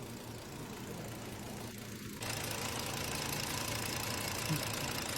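A car engine idles steadily with a faint, repetitive light knocking in its hum, close and continuous, growing a bit louder midway.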